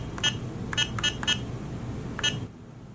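Keypad beeps from an ICT250 card machine as a password is entered, five short electronic tones in an uneven pattern over a faint room hum, then silence.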